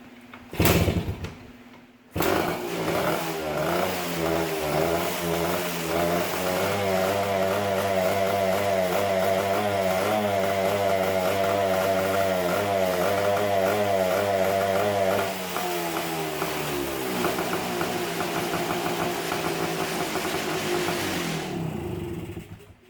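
A Yamaha enduro motorcycle engine, started from cold with a little choke, fires up after a brief pause and runs steadily at a loud, close idle with a rhythmic rough beat, easing slightly lower near the end.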